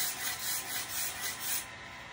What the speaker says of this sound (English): Slowly turning it while you're scraping it.